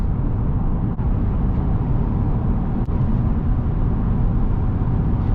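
Cabin noise of a 2020 Ford Kuga Titanium SUV with a 1.5 diesel 120 hp engine cruising at about 100 km/h: a steady low engine, tyre and road drone, even and continuous, with no talk.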